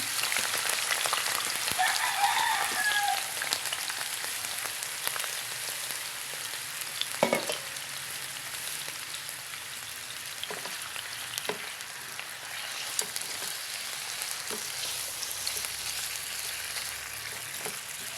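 Beefsteak frying in a pan, a steady close sizzle with fine crackling and occasional sharper pops and spatters, constant throughout with no talking.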